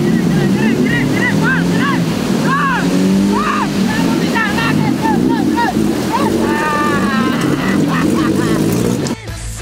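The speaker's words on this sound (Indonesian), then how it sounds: "mobil gue kayaknya nggak ada tenaga nih untuk melintasi sungai" A car fords a fast-flowing river, its engine churning loudly through rushing water, with wind buffeting and voices talking and calling out over the noise throughout.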